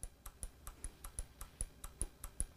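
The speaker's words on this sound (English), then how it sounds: "That's the EGR valve going on and off." An automotive EGR valve solenoid is driven on and off by a sensor simulator, giving a regular series of sharp clicks, roughly five per second, close and fairly faint.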